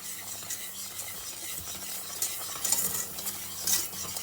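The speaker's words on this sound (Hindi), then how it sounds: "इसी तरह इसमें चम्मच चलाते रहेंगे तकरीबन और कुछ 1 आध मिनट के लिए" A spoon keeps stirring sugar and butter in a pan as the mixture thickens for halwa. The scraping is continuous and close, with a soft sizzle beneath and a few sharper clinks near the end, and nobody talks.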